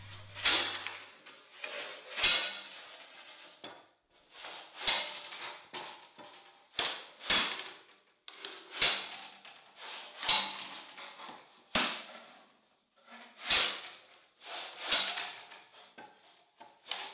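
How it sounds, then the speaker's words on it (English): Bamboo pole being split by hand with a knife, a series of sharp cracking and splitting strikes repeating roughly every second or two, loud and close, with the wood rasping between hits. "When the pole gets heavy at one end, flip the top end down and keep splitting."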